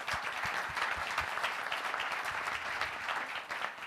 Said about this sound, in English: So applause for them too.